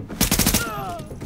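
Rapid gunfire in the video game The Division, a quick burst of about five loud, close shots followed by a fading tail and clatter.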